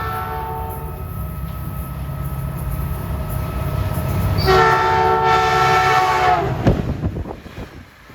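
A Caltrain limited-stop passenger train bound for San Jose rushes past nearby with a rumbling roar, its horn blaring steadily midway through, then the noise fades as it clears.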